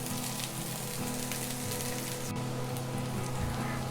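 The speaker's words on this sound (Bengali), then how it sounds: "পেঁয়াজ কুচি দিয়ে দিলাম, দিয়ে খুব ভালোভাবে ভেজে নিব।" Chopped onion fries in mustard oil for a fresh hilsa fish curry, a soft continuous crackling sizzle with faint stirring, steady throughout at low level.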